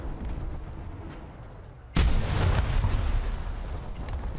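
A tank cannon shell strikes with a sudden loud blast in War Thunder, the hit on a graffiti-painted IS-3 tank jolting out of a quiet engine rumble and trailing off into a sustained rumbling aftermath.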